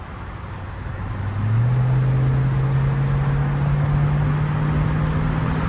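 A large pickup truck, a Cybertruck, rumbles close by as its engine revs up and then holds a steady, loud hum.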